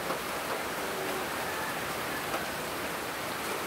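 Steady typhoon rain pours down, a dense, even hiss of drops falling on surfaces with no break.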